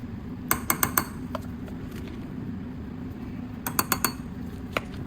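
A spoon stirs custard powder into hot milk, giving clusters of sharp metallic clinks against the pot over a low steady background hum, with quiet gaps between bursts.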